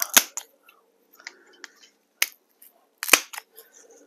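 An old trellis from an estate sale is cut through. A few sharp, separate snips and cracks sound up close, with quiet gaps between them and no speech.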